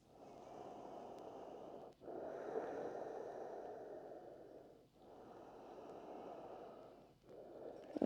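Slow, deep breaths during a yoga side stretch in a therapeutic low-back session, about three long airy inhales and exhales with brief pauses between, close and soft.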